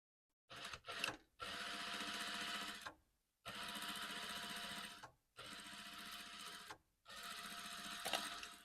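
A sewing machine runs in four bursts while stitching the side of an Elizabethan funnel corset. Each burst is a steady, fast mechanical rattle of a few seconds, with short quiet pauses between them, close up and fairly quiet overall.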